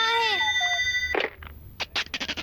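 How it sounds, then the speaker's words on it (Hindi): A telephone rings with a bright electronic tone that bends in pitch, then cuts off. Exclamations and talking follow in a cartoon scene. "अरे फोन बज रहा है"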